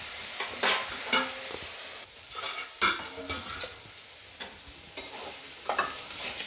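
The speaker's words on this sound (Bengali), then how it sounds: "দেবো আর নাড়াচাড়া করে ভেজে নেব।" Banana stem (thor) frying in a pan while being stirred, with a continuous soft sizzle and repeated close scraping clacks of the spatula at uneven intervals throughout.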